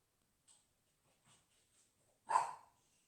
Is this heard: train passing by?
no